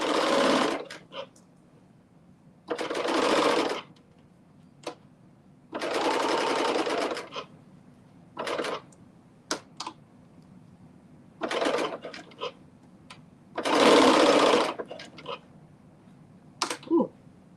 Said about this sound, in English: And so I am serging some of that off as I'm doing it